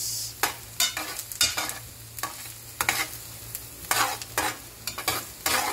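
Carrots stir-fried with onions and garlic in a hot pan, loud repeated bursts of sizzling and spatula scraping at an irregular tossing rhythm over a constant low hum, close up with no talking.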